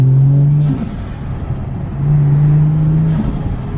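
A Ford XR6 Turbo idles and is lightly blipped, its loud, close engine holding a steady low drone that dips and swells in pitch over a few seconds.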